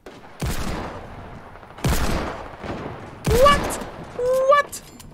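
Gunfire in the Fortnite video game, three sharp loud blasts spaced about a second and a half apart, each followed by a decaying tail, with someone speaking over the shots and a short tonal game effect near the end.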